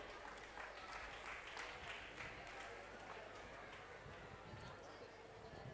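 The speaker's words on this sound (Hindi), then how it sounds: "ताली बजती रहनी चाहिए" Audience applause at a Jain cultural program during the Das Lakshan festival in Ahmedabad, a steady broadband clatter of clapping lasting throughout, with faint talk and crowd murmur mixed underneath.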